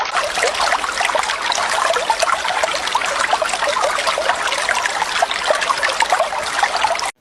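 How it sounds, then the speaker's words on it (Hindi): Water runs from a tap into a bathtub in a steady, loud, unbroken gush that fills the whole stretch, close by. "जल्दी से नल को खोल देती हूँ ताकि टब भर जाए।"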